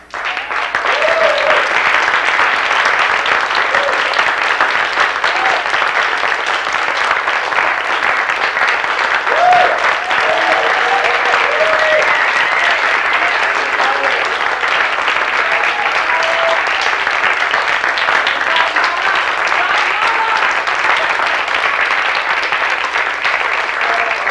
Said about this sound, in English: give the dancers another round of applause